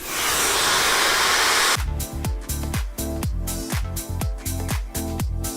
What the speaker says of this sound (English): just get in there with the blow dryer as close as possible